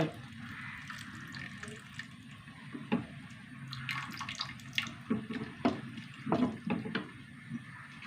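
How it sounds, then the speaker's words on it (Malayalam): Tamarind water pours and splashes softly into a pan of lentils in uneven bursts, with faint clinks and kitchen clatter in a quiet room. "ഇതിലേക്ക് പുളിവെള്ളം ഒഴിച്ച് കൊടുക്കാം"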